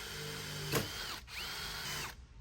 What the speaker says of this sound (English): and then I can drill my hole.